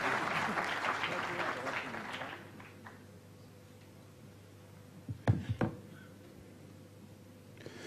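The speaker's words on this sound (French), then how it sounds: "applaudir" Applause from an audience at a digital forum, a dense burst of clapping in the first two seconds that quickly thins out, followed by a few sharp knocks and handling thuds in a quiet hall.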